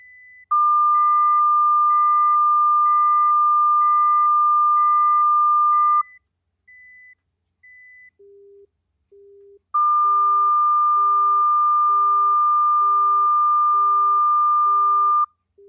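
Two long steady sine-wave test tones with a pause between, accompanied by quieter pulsing beeps at a different pitch, one higher and then one lower, demonstrating frequency masking.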